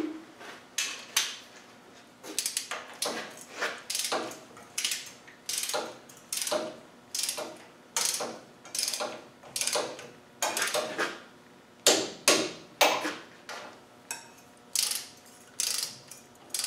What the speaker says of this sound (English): So we're just going to torque it down diagonally opposite.